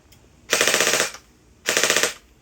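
A high-end MP5 gel blaster with strong blowback fires two full-auto bursts, each about half a second of rapid, evenly spaced cracks, loud and close, separated by a short pause.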